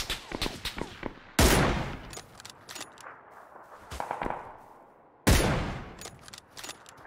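Gunfire in the PUBG battle royale game: bursts of rapid shots with two loud close blasts, separated by scattered shots and brief quiet gaps.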